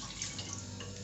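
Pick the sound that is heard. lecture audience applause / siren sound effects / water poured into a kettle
water poured into a kettle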